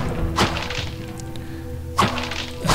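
Barrels are smashed in the video game Diablo with three dull thumping whacks, the first one alone and the last two close together, over a quiet game background.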